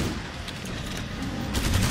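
Continuous SMG fire in the video game Killing Floor 2, a dense, steady rattle of rapid shots filling the whole stretch at close range, growing slightly louder toward the end.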